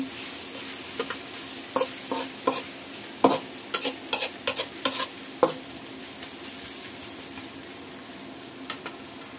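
Onion, carrot and egg frying in a pan for chicken fried rice, stirred with a utensil: soft constant sizzle broken by clusters of sharp scraping clicks, strongest in the first half and then quieter, near and unaccompanied by speech.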